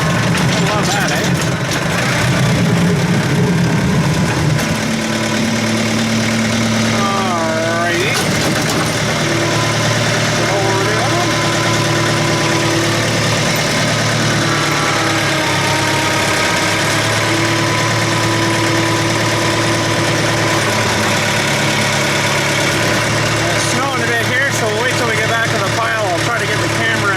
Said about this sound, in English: I'll do that while she's still idling.